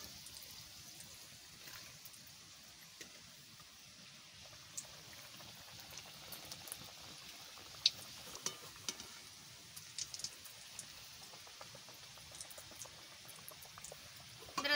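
Nimki, Bengali fried dough snacks, sizzling in hot oil with a steady soft crackle and occasional sharper pops, moderately quiet, with no talk.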